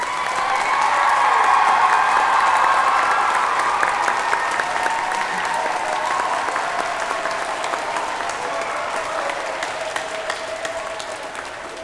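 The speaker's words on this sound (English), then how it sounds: "Shall we give them all a round of applause?" A large audience applauds at a children's choral concert, the dense clapping swelling in the first seconds and then gradually tapering off, with a few scattered cheers mixed in.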